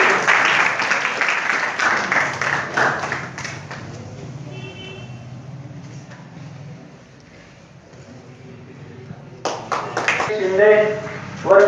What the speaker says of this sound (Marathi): विद्यार्थ्यांनी टाळ्या वाजवून तिचं स्वागत करावं